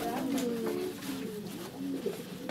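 Pigeons coo softly at a dovecote in a few quiet, rolling calls close by, with a faint background hum.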